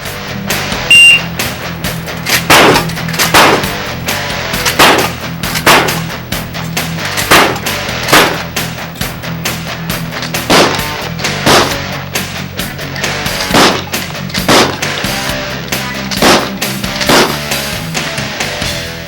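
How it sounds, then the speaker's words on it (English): Shotgun fire during a practical shooting stage: loud, sharp blasts come in quick, irregular succession, with reloading between shots and echoing reports throughout, and no voices. "After I fire, it's just a matter of rolling it in, closing it, and firing again."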